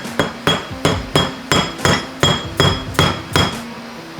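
A 5th gear nut is used as a driver to press a seal into a transmission, struck by about nine evenly spaced, sharp metallic hammer blows, loud and close with nothing else heard.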